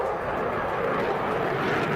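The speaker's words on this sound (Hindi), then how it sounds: "दोनों लड़ाकू विमानों ने एक साथ उड़ान भरकर ईरान को अपना दम दिखाया" Fighter jets flying together during a military exercise, heard as a steady distant roar of jet engines, even and moderately faint for the full two seconds.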